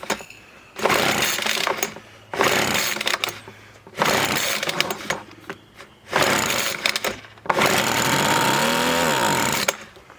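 The small two-stroke engine of a Weed Eater Featherlight FL1500i leaf blower, primed through the carburetor, sputters to life in repeated loud, rough bursts with brief quiet gaps between them. The final run holds longer with a wavering pitch.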